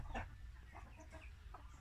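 Burmese game hens cluck in short, scattered bursts at close range, a few soft calls spread over a couple of seconds with faint farmyard background and no talk.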